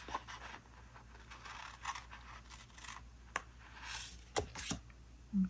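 Scissors snip through planner paper in a few quiet, close cuts and crisp scrapes at a desk, with faint rustling between them.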